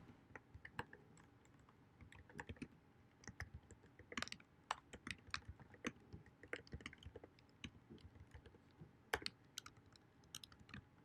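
Quiet, close keyboard typing: irregular bursts of light key clicks with short pauses between them, no voices.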